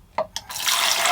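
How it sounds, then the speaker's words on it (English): Water bursts from a newly fitted tap in a narrowboat bathroom: two quick clicks of the handle, then a steady, close hiss of running water. "we need to test the tap"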